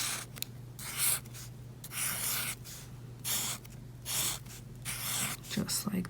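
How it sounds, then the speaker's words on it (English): A black Sharpie marker squeaks and scratches across paper in repeated short strokes while a name is written, with faint pauses between strokes and low room hum underneath. "get a black Sharpie or marker or pen or pencil, whichever you prefer, and you're going to write your name"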